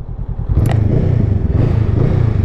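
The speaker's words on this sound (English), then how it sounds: "Sounds quite nice. It's a" Honda CMX500 Rebel parallel-twin engine with a two-into-one shotgun-style muffler, idling close by in a steady, throbbing low burble that swells slightly as the revs rise, with no talk over it.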